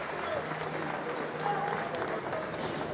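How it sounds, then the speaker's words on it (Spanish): Applause from a crowd at a women's world championship boxing fight, a busy wash of clapping with spectator noise and voices mixed in, fairly close and steady throughout. "el aplauso del público"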